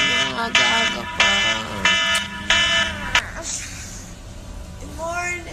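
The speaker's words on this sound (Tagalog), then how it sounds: "Alden, yung alarm mo. Patay mo muna." An alarm clock rings nearby in a condo bedroom with a loud, regular repeating beep, each burst evenly spaced, before it stops and quiet room tone remains.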